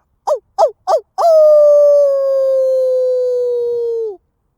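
A person howls like a wolf at the full moon outdoors at night: three short rising yelps, then one long sustained howl that slowly falls in pitch, loud and close, voice imitating a wolf.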